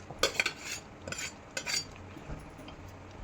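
Sweet fresh-coconut chakulya being stirred with fried pistachios and charoli, a quiet series of spoon scrapes and light metallic clinks against the vessel.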